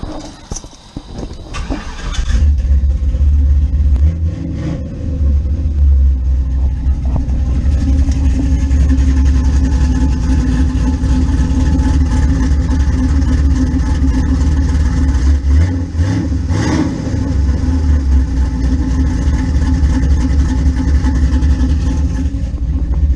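A Chevrolet Blazer with a newly installed engine idles with a steady low rumble, loud and close. It swells into revs partway through before settling back.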